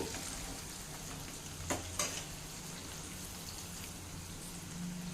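Asafoetida and spices fry in hot oil for tomato pickle with the gas off, giving a soft, steady crackle and a couple of small utensil taps.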